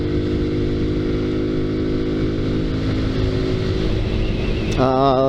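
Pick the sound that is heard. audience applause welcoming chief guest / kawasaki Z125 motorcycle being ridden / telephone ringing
kawasaki Z125 motorcycle being ridden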